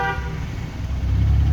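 Car horn honking during a driving lesson on a city road, a short toot at the start followed by engine and traffic rumble rising close by.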